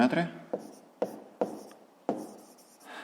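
A pen scratches across paper in several short strokes, each a quick rasp with gaps between. The writing is close and clear while a voice speaks over parts of it.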